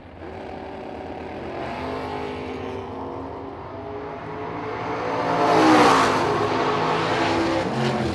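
At a drag strip, two race cars, one of them a Chevy, launch and accelerate away. Their engines make a loud, rising roar that swells to a peak near the end and then begins to fade. No voices are heard.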